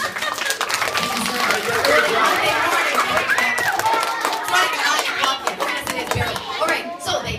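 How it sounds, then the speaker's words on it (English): A group of children clap in a busy, uneven patter at a storytelling session, with kids' chatter and an adult voice talking over the clapping throughout. "Yes, clap for these Yeah, clap for the giant."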